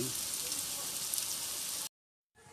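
Cabbage and sardine okoy fritters frying in hot oil, a steady bright sizzle and crackle running close and continuous before cutting out abruptly, with a faint return of sizzling at the end.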